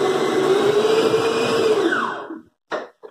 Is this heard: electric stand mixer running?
yes